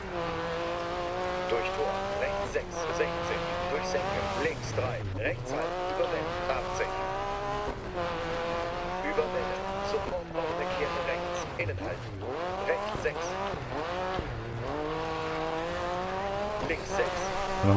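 Rally car from DiRT 4 racing a gravel stage in Wales, its engine note rising and falling steadily through gear changes with bursts of tire and gravel noise, under continuous talk.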